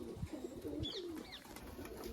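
White pigeon being caught with a trap, giving soft low coos and a few faint calls, quiet and close against a hushed background.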